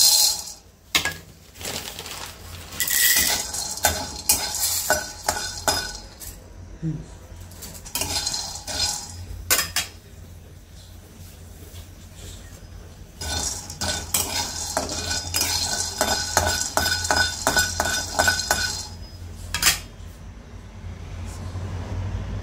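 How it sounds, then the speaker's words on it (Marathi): White peas (vatane) rattle and scrape in a dry pan as they are stirred, with dense bursts of quick metallic clicks and clatter over several seconds, loud and close. "आता टाकूया अर्धी वाटी पांढरे वाटाणे"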